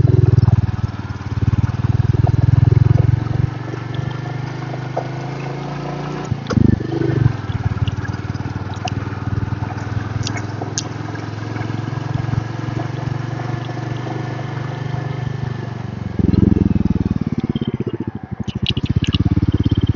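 A motorcycle engine runs steadily throughout, close by on a hill road near a waterfall, its low rumbling drone rising and falling slightly with revs and a few scraping knocks, with no talk over it.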